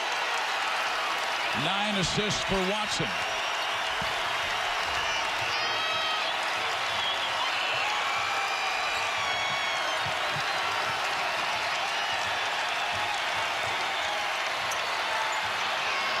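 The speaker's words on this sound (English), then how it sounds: "and here comes the crowd" During a Creighton Bluejays vs Oral Roberts Golden Eagles college basketball game, the arena crowd cheers and applauds in a steady roar under a play-by-play commentator talking throughout, with a few ball bounces early on.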